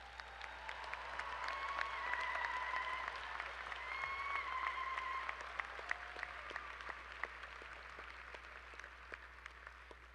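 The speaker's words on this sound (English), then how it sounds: "please, one more round of applause for all of our distinguished graduates and their families who made it possible" An audience at a 2014 university commencement in Billings applauds master's degree recipients with sustained, moderately distant clapping, while a faint tonal sound drifts over it.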